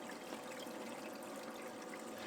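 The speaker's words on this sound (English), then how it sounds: "the stem pipe, the water's coming out of it" Water pours steadily out of the stem pipe of a bait tank into the filter area, a soft continuous trickle heard close and fairly faint.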